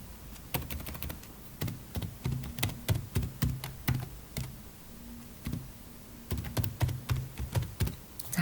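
Computer keyboard keys clack in quick bursts as an email address is typed, close, clear plastic taps with short pauses between runs, no talking.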